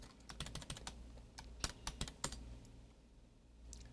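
Someone types on a computer keyboard attached to a remote-controlled DOS PC, sharp key clicks coming in irregular bursts that thin out and stop, heard close and alone in a quiet room.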